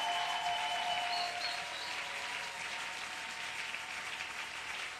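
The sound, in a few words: audience applause and cheering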